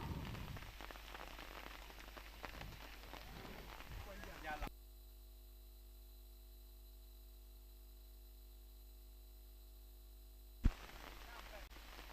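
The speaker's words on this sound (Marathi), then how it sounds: "पाऊस भरपूर पाहायला मिळतोय फायनल मॅच मध्ये" Rain falls steadily on the ground during a rural 40-plus cricket final, a broad hiss with a voice over it early on, then a quieter, steady stretch broken by one sharp knock near the end.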